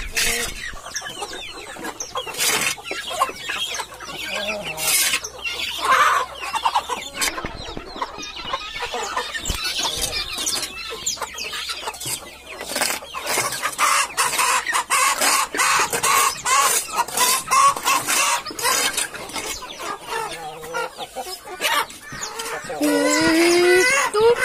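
Chickens on a farm with a giant rooster cluck and squawk repeatedly, with bursts of louder, close calls and an occasional crow, while a person speaks at times.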